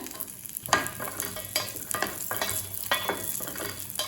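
Close oily sizzling in a pan, with occasional scraping stirs as cashews and black raisins are fried for vermicelli payasam.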